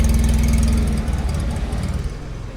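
A car engine rumbles loudly nearby in a pedestrian zone in Sicily, its low growl rising and falling as it revs, then easing into a rougher, quieter idle.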